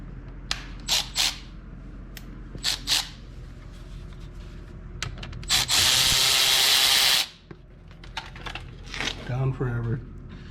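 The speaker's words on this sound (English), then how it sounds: "Instead of spinning it out by hand, you could also use your Milwaukee ratchet." A Milwaukee power ratchet spins a bolt out on a 2013 Honda CR-V during brake and transmission work, one loud, close, buzzing whir of about two seconds amid scattered clinks and a person talking.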